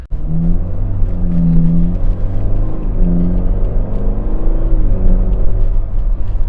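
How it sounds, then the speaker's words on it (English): Ferrari Portofino V8 with its exhaust valve open gives a deep, throaty rumble that swells and falls in a few revving pulses, close and loud throughout with no talking. "you guys can hear that the exhaust valve opens up almost immediately, and so you get that really deep, throaty V8 exhaust sound"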